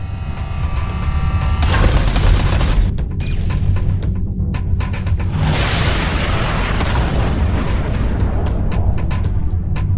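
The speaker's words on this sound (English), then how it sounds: "Watch out, the artillery." Artillery fire in the space combat game Everspace 2, with heavy booms and rapid blasts over a dense, rumbling roar, loud and continuous throughout.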